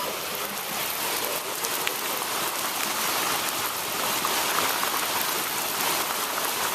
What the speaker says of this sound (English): What is that noise? It's the rain.